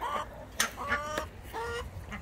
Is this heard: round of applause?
no